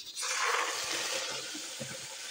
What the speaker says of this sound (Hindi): अब इसमें मैं डालूँगी थोड़ा सा पानी